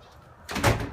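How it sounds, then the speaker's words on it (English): A door shuts with a single firm thud partway through, near and fairly loud, after a quiet moment. "You can close the door."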